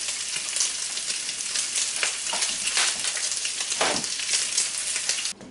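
Bacon sizzles and crackles steadily in a hot pan for a burger, a dense continuous frying hiss with no talking.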